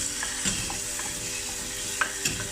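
A sauce with black pepper and thyme being stirred in a pan, a continuous bubbling sizzle broken by a few soft spoon scrapes and taps, close and steady with no talking.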